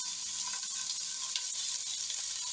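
Chopped carrots, onions and leek sautéing in a soup pot, a steady soft sizzle and hiss with faint stirring scrapes throughout, no voices.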